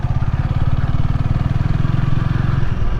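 A Honda Rebel 300 motorcycle engine while riding, a loud close steady low thrum with rapid pulsing firing beats and a faint whoosh of wind, no voices.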